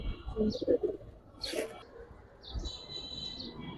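Low cooing from giribaz pigeons bubbles up near the start and again softly later, with a brief rustle in between and a thin whistling tone overhead.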